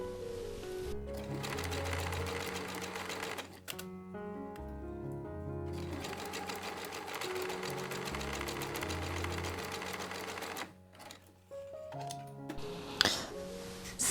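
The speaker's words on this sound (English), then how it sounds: "I will now stitch this with a zigzag stitch on my sewing machine." Home sewing machine running a zigzag stitch on underwear fabric, a fast steady mechanical whir and patter that runs almost continuously, with brief pauses and small handling noises near the end.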